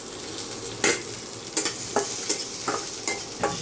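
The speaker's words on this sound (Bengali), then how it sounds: "দিয়ে দেবো একটু পেঁয়াজ আর কাঁচা লঙ্কা, অল্প পরিমাণ," Onion and green chilli fry with curry leaves in a little oil, a soft constant sizzle punctuated by about seven regular scraping stirs of a spatula close by.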